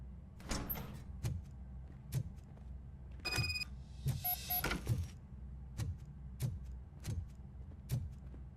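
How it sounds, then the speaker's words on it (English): A door slides open in RoboCop: Rogue City, a brief whooshing mechanical rush with faint electronic tones in the middle of the clip, set against steady, evenly spaced heavy footsteps. "Now let me get that door open for you."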